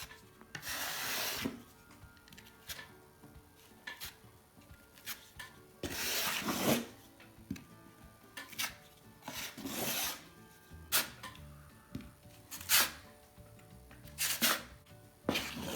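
A drywall blade being scraped clean of joint compound buildup gives a series of sharp, close scraping strokes at an irregular pace, separated by short quiet gaps.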